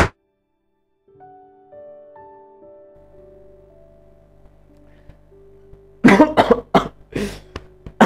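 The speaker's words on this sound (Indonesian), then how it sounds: "Batuk ah." A person coughs several times in quick succession, loud and close, following a stretch of quiet low tones.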